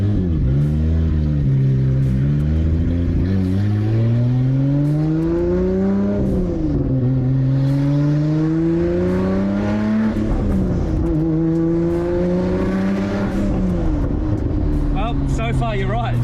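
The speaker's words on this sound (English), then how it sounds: "I can't believe a low mount car sounds this good." A 900hp Nissan Skyline R34 GT-R with twin turbos on low mounts and a race-ported head roars loudly and close, its revs climbing and dropping through several pulls, while people talk over it.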